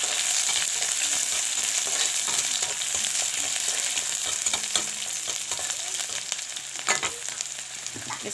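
Onion and garlic frying in a pan for a Karbi Anglong dish, giving a steady, close, bright sizzle with occasional stirring scrapes and pops, no talking.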